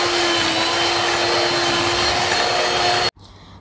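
An electric beater whips cream for a salted caramel pudding, giving a loud, steady, close motor whine with an even tone throughout. It cuts off sharply near the end, leaving quiet room noise.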